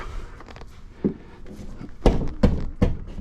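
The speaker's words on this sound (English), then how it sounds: "I'm going to mark these 2 holes and make sure I'm right in the stud. I'm going to do a little" Knocks on a drywall wall while locating a stud for a Tesla charger plug installation, a handful of dull thuds growing louder, with three firm closely spaced taps at the end, close to the microphone.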